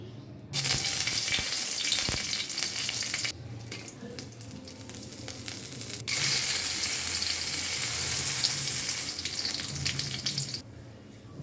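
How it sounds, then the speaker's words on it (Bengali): Bay leaf, cloves, red chili, cardamom, cinnamon and peppercorns dropped one by one into hot oil for a vegetarian chhana curry, giving a loud, steady frying sizzle that drops back twice, then surges again. "এখন আমরা তেলের মধ্যে আস্তে আস্তে এগুলোকে ছেড়ে দিব একটা একটা করে"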